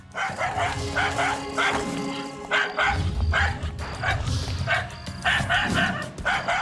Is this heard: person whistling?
no